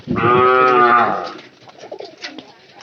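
A loud, drawn-out pigeon coo with a low, throaty warble opens the clip, followed by softer fluttering coos and faint rustling, from a loft where pigeon chicks have hatched.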